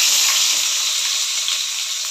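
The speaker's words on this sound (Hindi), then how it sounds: "अब हम इसमें प्याज डाल देंगे।" Onions drop into hot oil with cumin and set off a loud, bright, continuous sizzle that fades slightly as it settles. The pan is close, and no one speaks.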